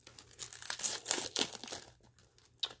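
Close, crinkly tearing of thin plastic wrap off a CD in several quick rips and rustles, then a brief pause and a final sharp crackle.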